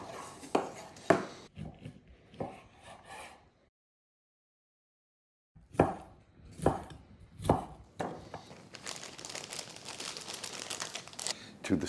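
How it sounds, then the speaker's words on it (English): A knife cuts uncured ham into cubes on a board, giving irregular close thuds and crunchy chops in bursts, with a silent gap midway and denser rustling cuts at the end. "Just want to cut this into, do I want ham steaks or ham cubes? I think I'll do cubes."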